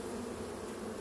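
Honeybees at an open beehive make a dense, continuous buzzing hum, close and steady, with no voices.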